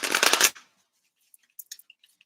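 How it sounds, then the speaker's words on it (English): A deck of cards being shuffled in a quick riffle, a dense half-second burst of flapping, close and fairly loud, followed by a few faint soft clicks and taps. "I'm going to shuffle these cards."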